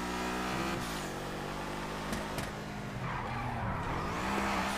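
Koenigsegg Jesko supercar drifting in GTA, its engine revving and shifting pitch while tyres squeal through the slide, loud and continuous with no talking.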